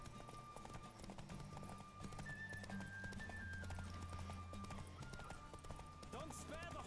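Hooves clip-clop rhythmically as a horse gallops in a race in The Witcher 3, with a whinny and game music underneath and voices talking over it.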